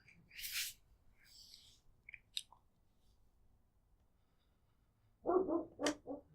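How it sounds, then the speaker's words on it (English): A dog barks in a strategy game match, a quick cluster of three or four sharp barks near the end after a stretch of faint, scattered game sounds, with no talk. "there's a dog barking"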